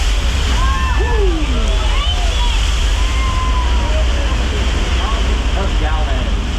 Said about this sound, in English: A gallon of recycled water released from the tank at the top.